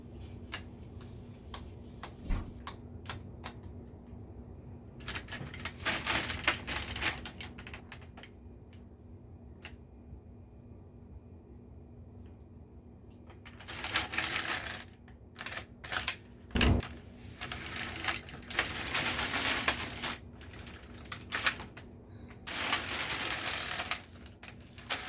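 An LK150 knitting machine carriage is pushed across the needles, giving rattling, clicking bursts in a few separate passes, with quiet gaps between and no talking.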